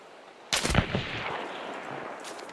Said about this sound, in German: Die schießen auf meinen Baum.